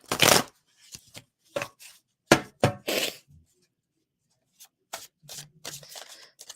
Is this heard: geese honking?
no